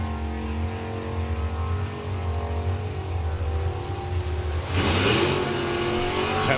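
A nostalgia drag racing car with a wheelie bar launches hard off the line at a Sunday nationals meet. A loud, steady engine drone rises into a sharp, brighter surge near the end as the car pulls away.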